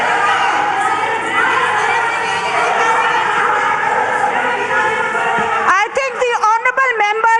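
Members of the Sindh Assembly raise a loud, continuous uproar of overlapping shouting during a session, the din holding steady before giving way abruptly to a single clear speaking voice near the end.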